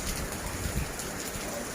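Rain falls steadily outdoors during play around an ondel-ondel giant puppet, a dense even hiss of drops with no pauses.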